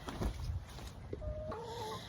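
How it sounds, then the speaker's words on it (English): An older hen clucking nearby in a backyard flock: a few faint, short clucks and low murmuring notes over quiet outdoor background, with a brief higher tonal call near the end. "this is one of my older hens"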